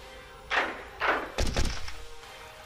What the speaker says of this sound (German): Öffnet das Kanonentor!